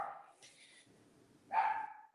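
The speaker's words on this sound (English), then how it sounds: "Sorry, it's our dog." A household dog barks in the background, a short yelp near the start and a louder, sharper bark toward the end, with quiet room noise in between.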